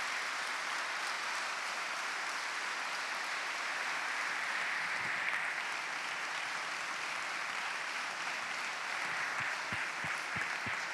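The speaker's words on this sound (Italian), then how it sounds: "fare un grande applauso a Lucio Caracciolo" An audience applauds at a festival talk with sustained, even clapping heard from within the hall, and a few thumps near the end.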